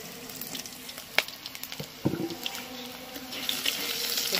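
Potatoes frying in a pan with panch phoron and drumsticks, a soft continuous sizzle with occasional clinks and a louder stir or scrape midway, close and fairly quiet, with no talking.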